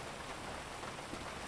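Steady, even rain hisses in the video game GTA 5, a dense, constant patter on surfaces with no breaks, voices or other sounds.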